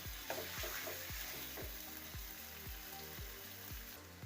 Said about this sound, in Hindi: फ्लेम को हमने हाई की तरफ रखना है। छः 7 मिनट तक इसको हम भूनेंगे।